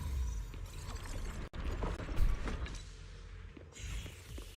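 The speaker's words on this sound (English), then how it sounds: "That's the sound of machinery." Video game machinery creaks and groans to life after a generator activates, a steady mechanical rumble with ratcheting clanks and a sharp click partway through, ending in a brighter hiss.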